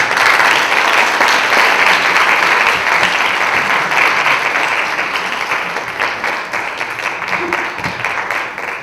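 An audience at a film symposium applauds panelists walking onto the stage, sustained loud, dense clapping from a large crowd that holds steady and then eases slightly toward the end.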